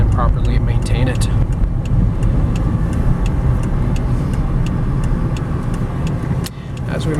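A 2003 Volkswagen Jetta Wagon with a 5-speed manual transmission on a test drive, heard from inside the cabin as a steady, loud road and engine rumble with small ticks running through it.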